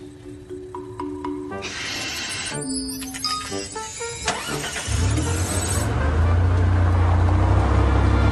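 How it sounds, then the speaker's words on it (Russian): A car engine cranks and fires, settling into a loud, steady idle after several seconds of clattering and rustling activity close by. "Завожу машину."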